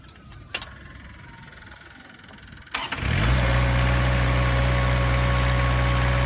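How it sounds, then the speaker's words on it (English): Engine of a floor scrubber machine cranked over and catching, then settling into a loud, steady idle with a constant low hum and a whining tone, following a few quiet clicks beforehand. "Let's crank the engine."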